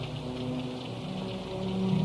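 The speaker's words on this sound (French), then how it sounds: "Dehors, la pluie se met à crépiter plus fort sur les carreaux" Steady rain patters against window panes in a French crime audio drama, a dense, even wash of drops that grows slightly louder toward the end, with no voices.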